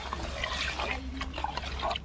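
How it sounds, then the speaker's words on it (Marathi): Water pours and trickles into a chicken curry cooking over a wood-fired stove, a close, bubbling liquid splash that runs for a couple of seconds. "बघा, आता पाणी टाकून घेते मी."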